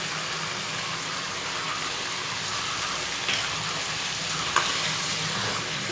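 Chicken with ginger and garlic paste fries in a karahi with a steady, close crackling sizzle and a couple of faint clinks of stirring, with no voices.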